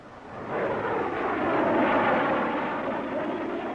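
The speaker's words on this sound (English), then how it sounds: "Low-level reconnaissance planes at near treetop level surprise the Cuban anti-aircraft crews" Low-level reconnaissance planes pass near treetop level over Cuba in the 1962 missile crisis, giving a loud, steady, broadband engine roar that swells in and holds for several seconds with no voices.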